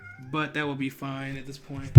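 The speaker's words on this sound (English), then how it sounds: "apologies if you hear my cat in the background" A pet cat meows in the background while someone talks over it, a few short nasal cries mixed with his speech.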